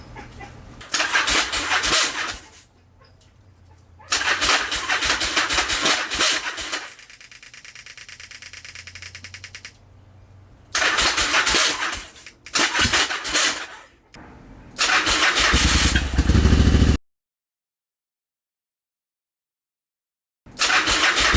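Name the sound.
Yamaha XV1100 Virago motorcycle engine starting and idling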